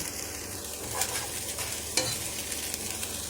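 Minced beef and tomatoes cooking in a pan while being stirred, a continuous close sizzle with two sharp scrapes of the spoon against the pan.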